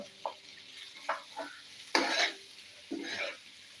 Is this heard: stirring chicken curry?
yes